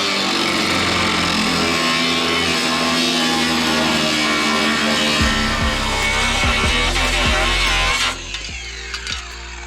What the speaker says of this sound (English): if you cut aluminum with one of these grinders, the thing will explode?